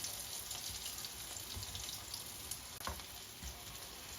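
Potatoes frying in a pan for a home-cooked meal give a steady, close, dense sizzle, with a few brief clinks of turning partway through and no voices.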